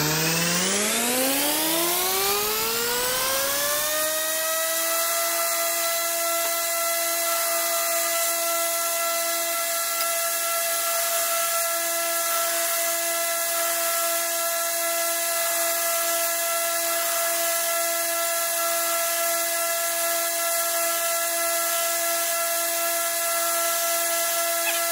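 Belt grinder working the bevel of a hunting knife: the motor spins up over a few seconds and then holds a steady, loud, high-pitched whine with a grinding hiss, close and continuous, with no talking.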